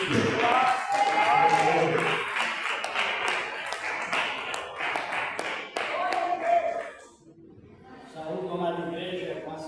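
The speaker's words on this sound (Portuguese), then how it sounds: "Palmas para Cristo." A church congregation claps hands together in a dense, lively burst of applause, with voices mixed in, easing off briefly before clapping resumes near the end.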